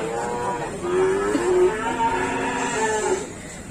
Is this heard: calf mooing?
yes